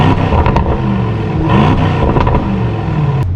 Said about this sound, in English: with a bigger engine also comes a throatier and a much better exhaust note, which we will listen to right now